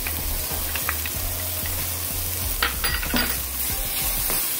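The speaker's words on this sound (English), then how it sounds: "So I'm going to put my garlic in now." Garlic sizzles steadily in hot olive oil in a pan, a loud continuous frying hiss with a few utensil clinks and stirring scrapes over it.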